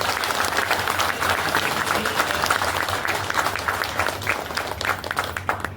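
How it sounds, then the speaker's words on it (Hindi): Business seminar audience in Thane clapping hard together, a thick, continuous roar of applause from a packed room that stays strong throughout, over a low steady hum. "जोरदार तालियां होनी चाहिए अगेन वंस अगेन आप सभी के लिए"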